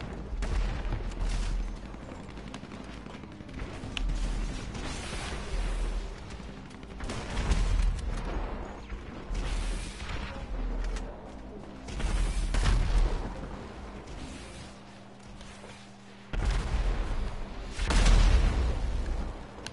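Gunfire and explosions fill a large World War II D-Day team deathmatch in GTA 5, with repeated shots, bursts and deep booms rising and falling at mid distance over a continuous rumbling battle din.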